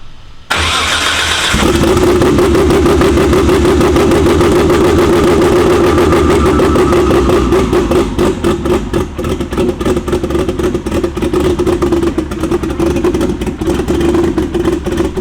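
A BMW E92 race car engine cranks and fires for its first start, then settles into a loud, steady, rough idle with rapid pulsing exhaust close by.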